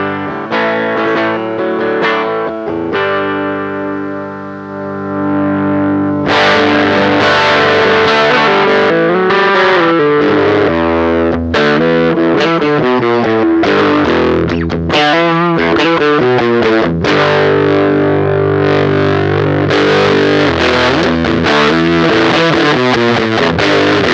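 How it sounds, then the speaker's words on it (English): An electric guitar plays through a Whimsy Machines JEFF fuzz pedal as the fuzz control is swept, starting with cleaner sustained chords and shifting into thicker, saturated, buzzing fuzz tones, loud and close with no talking. "If we turn it down, we get cleaner sounds. If we turn it up, we get fuzzier sounds."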